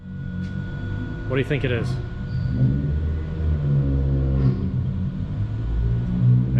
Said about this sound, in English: This is a Mitsubishi Evo.